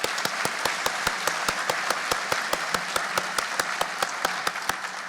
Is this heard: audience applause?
yes